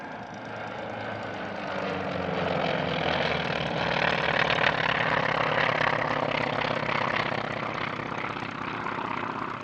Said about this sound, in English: Now repositioning the aircraft to bring them slightly behind the crowd and approaching from the right for a lovely topside pass